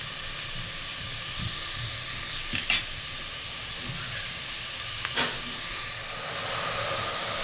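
Carrots for fried rice are stir-fried in a pan, giving a soft, steady sizzle with occasional light scrapes and stirring taps, fairly quiet and close, without speech.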